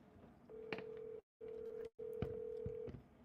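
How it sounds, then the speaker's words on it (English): Telephone keypad tones while placing a call: several steady, clear beeps of differing length, separated by two short gaps of silence, heard close and alone over faint background noise. "I'm calling one more time."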